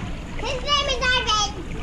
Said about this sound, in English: Hey, Owen, don't splash him, please.